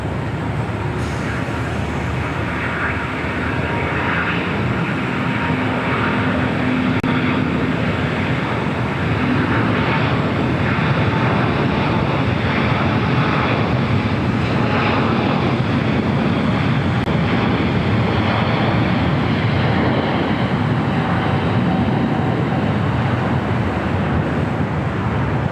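Airliner rolling down runway 25 Right at LAX for takeoff: a steady, loud broadband roar of jet engines with wind noise from a distance, building slightly over the long stretch without pause.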